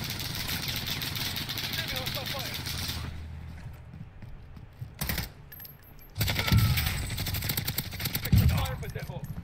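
Video-game gunfire from a team firefight with flashbangs: rapid rattling bursts and sharp shots crackle in clusters over steady game background noise, with voices chattering underneath.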